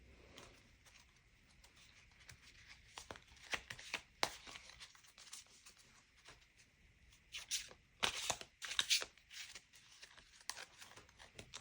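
Tarot cards being shuffled and handled at a table, giving soft papery riffles and flicks in irregular bursts, with louder clusters of snapping card noise toward the end, close and fairly quiet, with no talk.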